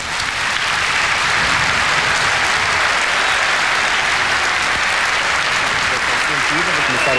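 Guests at Expo 98 break into sustained applause after a speech, a dense, loud wash of clapping that holds evenly for several seconds as a voice starts to come through near the end.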